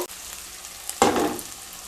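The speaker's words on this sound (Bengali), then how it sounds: "এবার ম্যারিনেট করা চিকেনটা দিয়ে দেব" A sharp sizzle bursts out as marinated chicken drops into a hot pan of fried onions, settling into a loud, steady frying hiss.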